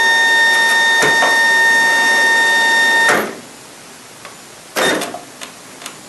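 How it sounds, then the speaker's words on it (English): Toshiba BEX4-T1 label printer feeding blank labels and calibrating, a loud steady mechanical whir with a tonal whine that stops abruptly, followed by quieter short motor bursts and clicks as the media advances. "The printer will then feed a couple blanks. It will automatically do a label calibration to configure the size of label that's within the printer."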